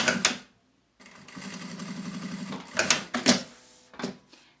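Sewing machine stitching the flap of a fabric notebook cover, a steady mechanical whir lasting a couple of seconds, then brief handling rustles and clicks nearby.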